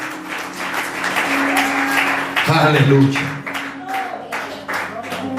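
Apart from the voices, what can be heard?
congregation applauding the King of Glory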